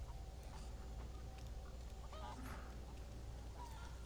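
Chickens clucking and squawking in a Resident Evil 4 Remake village, intermittent calls over a steady low ambient game hum.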